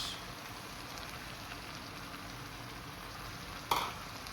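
Peas sizzle in a pan as they are mixed into a soup, a soft continuous frying hiss at low level with a single sharp clink near the end.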